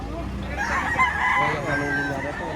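Henny gamefowl rooster at a market crowing close and loud, a drawn-out strained call over background chatter and crowd noise.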